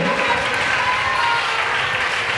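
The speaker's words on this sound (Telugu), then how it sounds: "మనందరం కలిసి మరొకసారి బిగ్గరగా చప్పట్లు కొడుతూ" A church congregation claps loudly together in a dense, continuous wash of applause that holds steady from start to finish.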